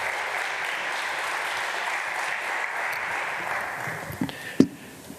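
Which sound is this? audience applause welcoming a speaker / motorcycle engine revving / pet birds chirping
audience applause welcoming a speaker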